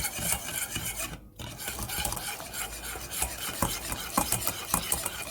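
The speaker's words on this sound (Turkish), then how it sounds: "iyi bir şekilde çırpmamız gerekiyor" Steady, rapid scraping and swishing of a hand whisk beating sponge cake batter in a bowl, continuous and close, with a brief gap early on.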